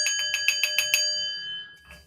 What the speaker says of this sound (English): Ring that goddamn bell